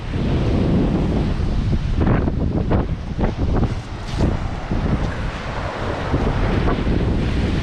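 Ocean waves and gusty wind at Myrtle Beach, a loud continuous roar with surges of surf breaking and heavy wind buffeting the microphone, no voices.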